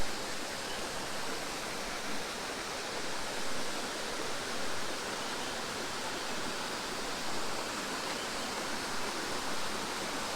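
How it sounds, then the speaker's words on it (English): A small waterfall in Puerto Rico pours steadily into a swimming pool, making a dense, unbroken roar of rushing water that stays close and loud throughout with no voices. "this little waterfall here with a beautiful pool for cooling off"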